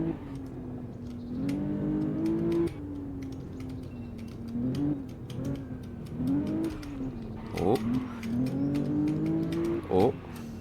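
A Maserati Ghibli on a track, its engine droning and rising and falling in pitch as it revs, with brief squeals as the tires lose grip, under someone talking throughout.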